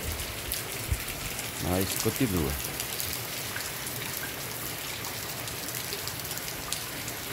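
Steady rain falls in Santana do Ipanema on Good Friday, a continuous hiss of drops across the whole stretch, with a person speaking briefly over it partway through.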